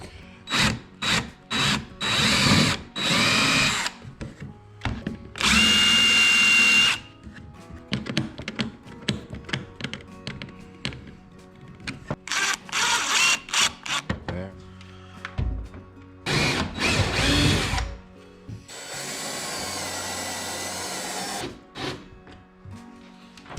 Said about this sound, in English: So now I need to drill out the holes